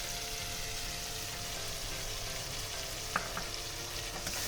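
A ground mustard, poppy seed and turmeric spice paste fries in a pan for pomfret fish curry. A soft, steady sizzle carries on throughout, with a couple of faint scraping clicks.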